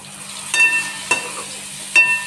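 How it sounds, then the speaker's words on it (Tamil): Carrots and onions sautéing in a pan give a faint, continuous sizzle, broken by three sharp clatters of a utensil against the pan, spaced unevenly and heard close up without talk. "இங்கே கேரட்டு வெங்காயம் வதக்கியிருக்கேன்"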